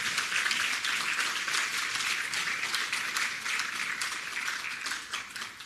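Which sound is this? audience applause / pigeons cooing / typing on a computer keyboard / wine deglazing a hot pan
audience applause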